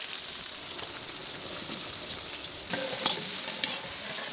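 Chopped small and large onions go into hot oil in a pan with curry leaves and fry with a steady sizzle. The hiss grows louder and brighter as they hit the pan, with faint stirring crackles and no speech.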